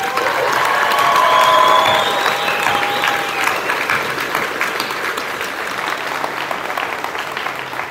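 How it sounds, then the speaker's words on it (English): Sustained applause from a crowd at a Grade 12 high school graduation ceremony, dense and steady at first, then gradually thinning and softening over several seconds. "A round of applause for our graduates"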